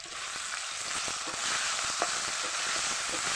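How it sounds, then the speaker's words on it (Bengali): Taro chunks with cumin, ginger and pepper pastes and bay leaves sizzle steadily in a hot pan, with soft scraping stirs now and then; a continuous frying hiss, fairly quiet, with no voices. "নেড়ে চেড়ে দিলাম ভালো করে।"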